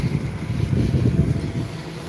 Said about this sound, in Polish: Jedzie traktor